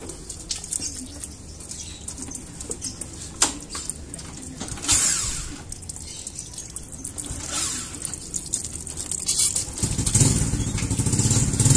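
Water splashes and drips in uneven bursts close by as it is poured over a Suzuki Ertiga engine bay, with scattered trickling and handling noises over a steady low background hum.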